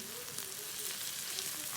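Onions caramelizing in a pan give off a soft, steady sizzle with faint crackles, close but quiet, with no voices.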